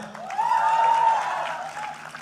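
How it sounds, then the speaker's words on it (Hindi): An audience at the Bigg Boss OTT Season 3 launch event with Anil Kapoor bursts into loud applause that swells, holds strong for a couple of seconds, then eases slightly, with a whistle-like tone cutting through the clapping. "जरा मुंह में फंसाओ और ताली बजाओ एक बार जोरदार"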